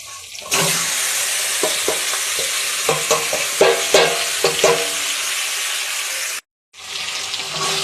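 Meat drops into fried onion, ginger and garlic masala in a pan and is stirred hard, a loud close sizzle punctuated by repeated spoon scrapes and clacks, cut by a brief silent gap near the end.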